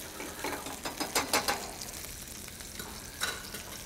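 An Alaska salmon fillet sautéing in a pan, a close, steady sizzle and crackle with a few louder bursts of spattering.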